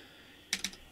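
Quick typing on a computer keyboard during a Bash and Zsh alias demo: a short burst of three or four sharp, close key clicks after a quiet stretch, alone with no talking.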